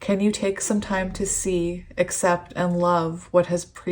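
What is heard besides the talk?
No everyday noise stands out behind the speech.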